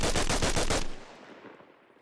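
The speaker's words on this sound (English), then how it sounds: "And we'll do a full auto on the side." Full-auto burst from an FN SCAR-H rifle in the Arma Reforger video game, loud rapid shots for under a second that give way to a long decaying reverberant tail.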